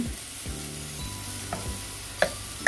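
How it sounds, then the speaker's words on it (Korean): Meat sizzles in a pot as the first step of an onion curry, a soft, steady frying hiss with a few faint stirring clinks near the end, no voices. "고기를 제일 먼저 어, 볶습니다"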